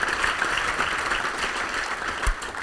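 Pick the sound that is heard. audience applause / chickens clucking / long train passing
audience applause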